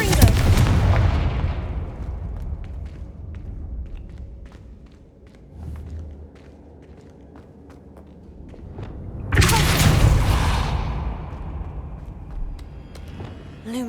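Confringo spell blasts in Hogwarts Legacy: two big booming explosions with rumbling decay, one at the start and another near the middle, separated by quieter stretches of small clicks and thuds.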